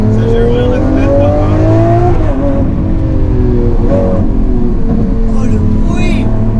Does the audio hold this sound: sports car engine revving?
yes